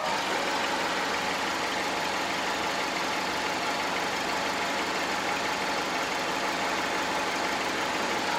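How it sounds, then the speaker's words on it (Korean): A silver Chevrolet Orlando idling with its engine bay open, giving a steady, smooth, fairly quiet hum and whir heard up close, unchanging throughout with no voices. "엔진룸 개방했습니다 엔진 소리 들려드리도록 하겠습니다"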